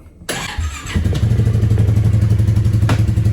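A Polaris off-road vehicle engine cranks, catches and fires up, then settles into a steady, loud rhythmic idle close by.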